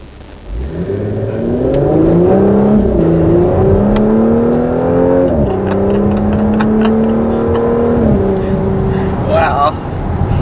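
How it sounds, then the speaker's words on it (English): A 2020 Audi S5 revs from idle in dynamic mode with its exhaust baffles open, giving a loud, deep, rising and falling engine roar that continues steadily for about ten seconds. "You can hear the exhaust really deep in as soon as you do that"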